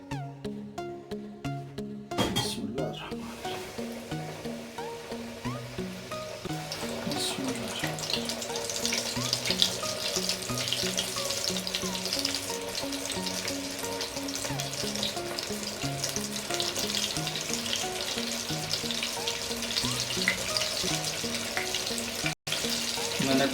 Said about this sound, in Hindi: तो अभी मैं इनको डालता हूँ ऑयल में